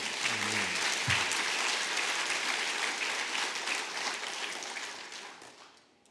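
Sustained applause from a church congregation during a Sunday service, a dense, steady wash of clapping that fills the whole stretch and slowly fades toward the end.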